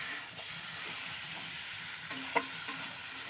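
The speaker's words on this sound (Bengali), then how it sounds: "দেখো এইভাবে মাছটাকে কষিয়ে নিতে হবে।" Pangas fish frying in spice paste for a Bengali potato-and-fish curry: a steady soft sizzle with a few stirring scrapes and small pops, close and fairly quiet, no voices.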